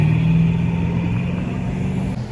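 Ford Mustang at a rainy evening car show on Historic Main Street in Garden Grove rumbles past, its engine giving a loud, steady low drone through a brief, continuous pass.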